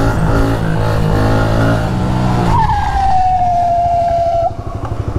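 A game motorcycle's engine drones loudly, then its locked brakes let out a long, high tire skid squeal that holds for about two seconds before fading; no voices.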